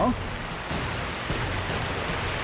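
Seawater pours onto a plastic sheet laid in a dug sand pit on a beach, a steady rain-like splatter and patter with a voice faintly underneath.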